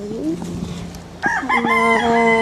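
A rooster crows loudly and close by, its drawn-out call rising over a steady background hum.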